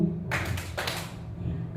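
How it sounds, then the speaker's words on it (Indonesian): Audience clapping in unison on cue, two short bursts of applause close together in a room, with a brief pause between them. "Kalau mendengar suara saya silakan tepuk 2 kali"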